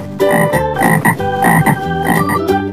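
A frog croaks loudly and close, several rapid throaty croaks in quick bursts with short gaps, standing alone without speech.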